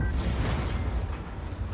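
A Mouse tank fires its main gun in the World of Tanks video game, a single heavy boom rolling out at once into a long, loud, low rumble.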